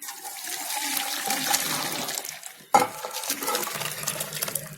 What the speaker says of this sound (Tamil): இப்ப நம்ம வடிகட்டி எடுத்துடலாம்.